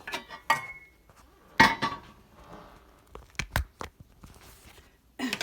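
A ceramic crock pot and lid being handled in a kitchen while making applesauce, with sharp clinks and knocks scattered among quieter handling and shuffling noises.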